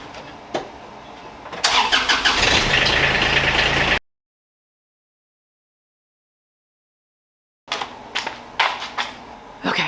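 A car engine cranks and catches in a garage, revving loudly for about two seconds before a gap of silence, then returns with intermittent clunks and engine noise as the car is moved out.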